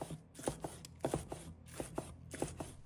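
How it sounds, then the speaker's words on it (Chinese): Knife chopping scallion greens on a cutting board in quick, fairly even taps, close but quiet, with no talking. "把它切成葱花"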